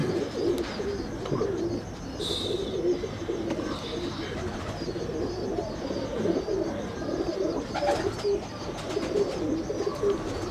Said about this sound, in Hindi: जो पहला आपको मिस्त्री साहब वाला मिस्सा कबूतर दिखाया गया है